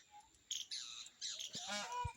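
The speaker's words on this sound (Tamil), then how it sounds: "இது என்ன பறவையோட குரல் சத்தம்?" Bird calls near a riverside ashram on the Narmada: a few short chirps and squawking tweets in quick succession over about two seconds, fairly faint against quiet surroundings.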